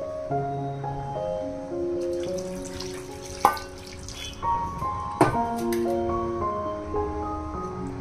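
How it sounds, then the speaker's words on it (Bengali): Water poured into a bowl of spice-coated tengra fish for a fish and potato curry, a steady trickling splash running for several seconds over soft background music, with two brief clinks along the way. "এবার আমি এখানে অ্যাড করে নেব জল।"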